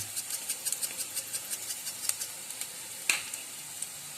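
White and black sesame seeds fry with golden brown onions, giving a soft, faint crackle made of light, evenly spaced pops, with one sharper pop standing out.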